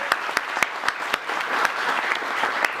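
Applause from a congregation or audience at a talk on faith, a steady wash of many hands clapping with a few sharper nearby claps standing out, continuous for about three seconds.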